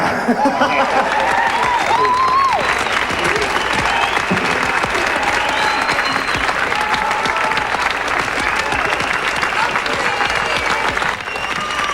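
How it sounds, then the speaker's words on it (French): A large audience applauds warmly at a 1993 Quebec stage event, a loud, dense and sustained wash of clapping with scattered cheers and chuckles, and voices heard faintly underneath. "Jean-Pierre Ferland, on l'applaudit tout le monde"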